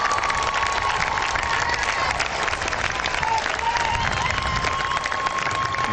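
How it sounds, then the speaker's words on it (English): Loud, steady applause mixed with cheering fills a graduation ceremony audience, a dense continuous wash of clapping with occasional whistles, heard from within the crowd. "Let's give them all a great round of applause."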